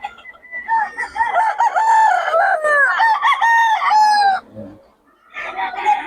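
Several roosters crow in overlapping, drawn-out calls at a market day in Bocaue, loud and close, followed by a brief pause and another crow starting up.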